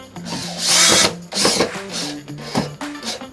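A power drill drives a screw into an oven cabinet during assembly, whirring in several short, loud bursts that speed up and slow down as the screw is snugged tight, with brief pauses between pulls of the trigger.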